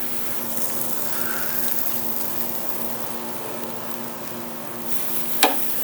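Tomahawk pork chops sizzling over a mill scale yakitori grill, a steady, even hiss of frying fat throughout, with a faint background hum and one short sharp pop near the end.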